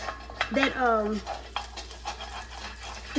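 Turkey sausage sizzling in a skillet while being stirred, with soft scraping and clinks of a utensil against the pan and a brief tonal squeak near the start, close and fairly quiet.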